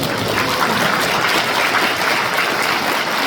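A large audience applauds continuously at a government policy briefing held in a hotel hall, producing a dense, even wash of clapping that lasts the whole stretch without pause.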